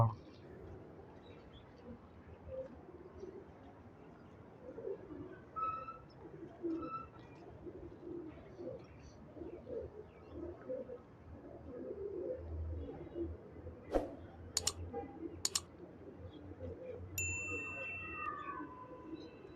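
Star pigeons coo softly amid a busy background of low rumble and rustling, with a few sharp, bright tones ringing out near the end.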